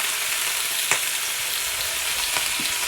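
Potatoes (tatties) searing in a hot pan for a vegetable curry, a steady close broadband sizzle with a few brief stirring clicks and pops.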